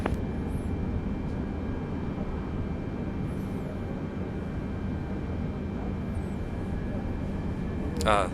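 A Boeing 747-8 auxiliary power unit runs on the ground in Microsoft Flight Simulator, a steady droning hum with a faint whine, fairly quiet and constant, with brief higher chirps near the end.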